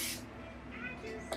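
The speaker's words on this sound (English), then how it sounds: "we take this little IGK. You can get that Sephora volumizing texture spray" A short burst of IGK volumizing texture hair spray hisses at the start, followed by quieter rustling and a faint click near the end.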